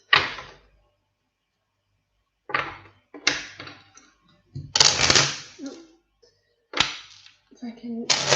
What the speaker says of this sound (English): If I can shuffle the cards.